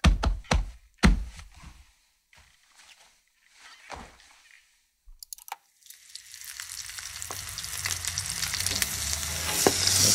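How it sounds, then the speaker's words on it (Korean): Frying in a pan with a spatula: scattered clacks and scrapes at first, then a steady sizzle that builds, with the spatula stirring and tapping through it. "파출라와 함께 굽는 소리"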